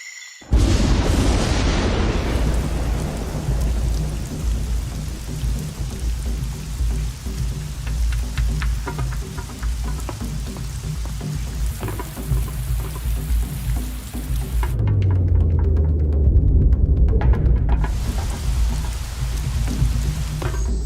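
Steady, loud rain pours down in the Amazon rainforest, a dense hiss of drops on leaves and surfaces with a deep low rumble running beneath it throughout.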